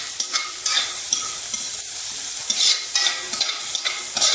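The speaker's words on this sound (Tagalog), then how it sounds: "At ukay-ukayin ulit" Chopped ginger is stirred in a hot pan of oil for pork adobo, with a soft continuous sizzle broken by repeated scraping strokes of a utensil against the pan.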